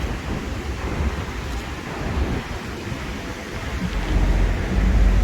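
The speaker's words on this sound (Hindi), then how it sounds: "वो देखें पानी कैसे नीचे गिर रहा है" Water plunges at a waterfall, a dense, roaring rumble that swells louder toward the end, with a cool wind blowing across it and no clear speech.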